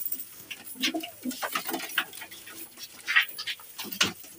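A Giribaz pigeon, a black-green female, coos in a series of soft, rising-and-falling calls close by, with short pauses between phrases and no one speaking.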